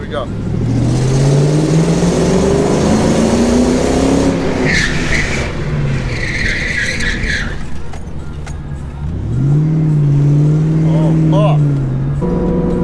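A Ford Mustang Bullitt fitted with an MGW short shifter accelerates hard in traffic, its engine note climbing through revs, dropping on a shift and climbing again. A tire squeal follows as the car slides, and the sound stays loud and close throughout.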